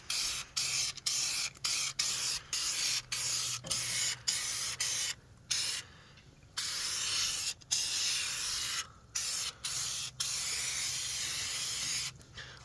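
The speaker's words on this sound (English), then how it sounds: "I'm going to go through and spray everything" Repeated bursts of loud hissing as Fluid Film undercoating is sprayed onto a truck's frame and underside, short and long blasts separated by brief pauses, close by with a faint low hum underneath.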